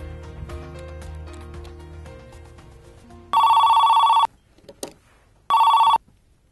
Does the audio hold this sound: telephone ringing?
yes